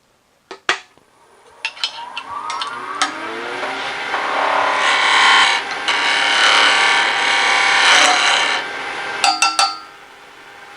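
A wood lathe turns down the tenon of a Hermione Granger style magic wand, with a few sharp taps and knocks before a sustained close whirring cut that swells and then stops abruptly with more clicks.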